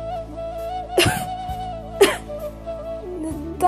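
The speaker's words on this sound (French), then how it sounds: "Je tousse." Several sharp coughs from a mother break up a quiet, tonal musical background, each a brief harsh burst about a second apart.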